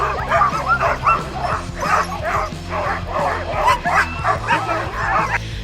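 Sled dogs at a dog sledding camp in Juneau, Alaska, bark and yip excitedly in a steady, overlapping chorus, close and loud, with some whimpering mixed in and faint voices underneath.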